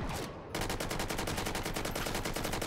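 Rapid automatic rifle fire in the VR shooter Hot Dogs, Horseshoes & Hand Grenades, a brief pause then a sustained loud, evenly spaced burst of shots running to the end.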